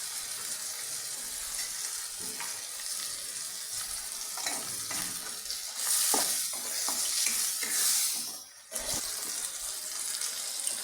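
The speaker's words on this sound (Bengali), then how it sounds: "আর একটু নুনের ছিটে দিয়ে ভালো করে মিশিয়ে নিচ্ছি" Tomato, capsicum and green chilli sizzle in a pan with a pinch of salt while a spatula stirs them, scraping in uneven strokes through a steady hiss that swells briefly midway.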